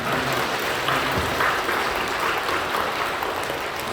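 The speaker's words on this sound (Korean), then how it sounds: "여러분들 크게 박수로 환영해 주시면 감사하겠습니다" A church congregation claps steadily for several seconds during a worship service, a dense, even round of applause with no talking.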